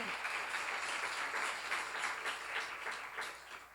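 Congregation at a church seminar applauding together, a steady dense wash of clapping sustained throughout with no break.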